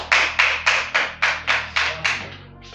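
A group in a classroom claps in unison for a student, about nine sharp, evenly spaced rhythmic claps, loud and close, tapering off at the end.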